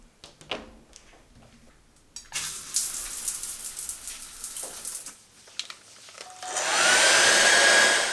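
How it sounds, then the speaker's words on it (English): A household hair dryer blowing on hair indoors runs as a steady airy rush, broken by brief handling clatter, then swells to a loud, even whoosh with a rising whine toward the end. "Luckily managed to mostly finish drying my hair before the power went off."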